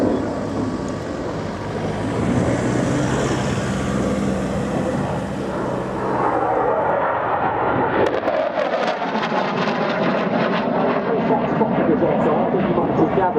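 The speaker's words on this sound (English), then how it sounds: "a very high-speed pass coming up now, so stand by for a wee bit of noise" Saab Viggen AJS37 jet making a high-speed low pass at an airshow, a loud broad roar that swells and shifts into a harsher, brighter rumble midway, with commentary from a voice over the noise throughout.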